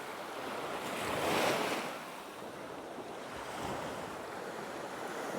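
Waves wash onto a short beach in the Similan Islands, Thailand, a broad, steady surf hiss that swells and eases gently, with wind buffeting the microphone and no voices.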